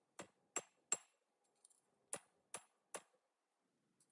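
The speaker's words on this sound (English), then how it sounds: "just ever so slightly bang it with the hammer" A hammer taps lightly on a small metal jewelry piece, about nine sharp, ringing clinks in an uneven rhythm, close and crisp against silence.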